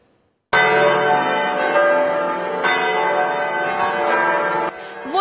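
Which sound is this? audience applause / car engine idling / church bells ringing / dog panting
church bells ringing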